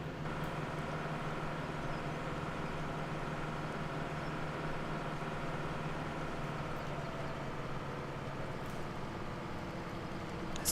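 Big Bud tractor engine in Farming Simulator 17 idles with a steady low droning hum and faint mechanical whine, constant and unchanging throughout with no talk.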